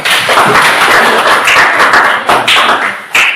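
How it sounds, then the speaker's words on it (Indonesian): A school class claps hands together in a classroom, a loud continuous burst of close clapping with brief dips and a final flurry. "Ya, tepuk tangan."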